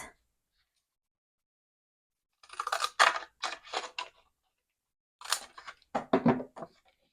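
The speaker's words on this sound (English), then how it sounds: "I'm gonna cut off part of it here with my little scissors." Small scissors snipping through a paper envelope in two quick bursts of crisp cuts, close and quiet, separated by silence.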